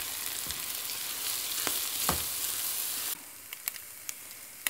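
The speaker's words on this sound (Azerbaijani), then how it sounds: "Biraz qovurduqdan sonra kökü də üzərinə əlavə edib ikisini bir yerdə qovururuq." Coarsely chopped onion and carrot fry together in hot oil in a pan for liver pâté, giving a loud, steady sizzle that drops to a quieter hiss partway through, punctuated by occasional sharp pops and stirring clicks.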